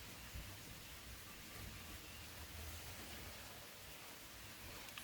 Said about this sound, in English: If you guys can hear that rain, I hope that it is a peaceful thing and not an irritating thing to you.